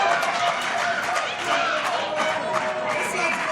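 A wrestling crowd at an IWC event roars steadily behind Dalton Castle, a dense wash of cheering and clapping that fills the whole stretch with no break.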